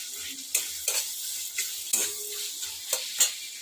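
Onion and tomato frying in a pan for an egg curry, a low sizzle punctuated by repeated sharp scrapes and taps of a spatula against the metal, close and irregular.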